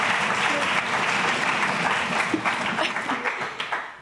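Audience at a school conference breaks into dense, continuous applause, many hands clapping together at an even level throughout with some brief voices mixed in.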